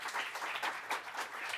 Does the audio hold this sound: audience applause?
yes